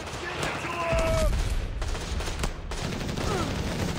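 Gunfire in Company of Heroes 3: rapid bursts of rifle and machine-gun fire crackle through a battle scene while soldiers shout.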